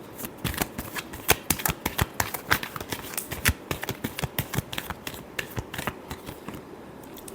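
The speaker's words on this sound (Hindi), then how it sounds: "Last shuffle." A deck of tarot cards is shuffled by hand in a rapid, irregular run of crisp riffling snaps and flicks, close and clear, continuing for several seconds with no talking.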